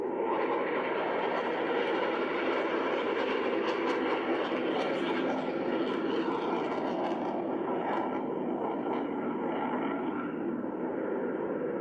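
Fighter jets roar past overhead during the 2021 San Francisco Fleet Week air show, a loud continuous broadband jet rumble that holds steady throughout without easing.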